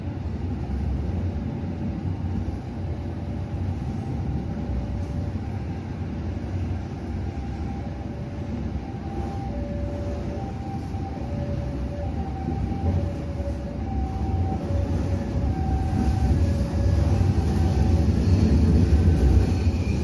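Passenger train running on the Cibatu to Bandung line in Indonesia, with a steady loud rumble of wheels and carriage noise, a repeated whistle-like tone pulsing through the middle, and growing louder toward the end.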